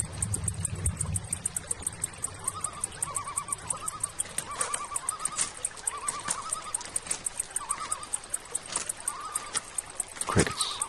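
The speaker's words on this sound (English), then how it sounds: "Crickets." Steady high-pitched crickets chirping continuously, with a faint distant whinnying call and a few soft bumps in the background.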